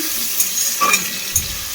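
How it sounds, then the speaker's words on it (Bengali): Prawns fry in a hot pan, giving a short burst of soft, close sizzling hiss with a few small crackles and pops over under two seconds. "চিংড়ি মাছ ভাজা হচ্ছে হালকা"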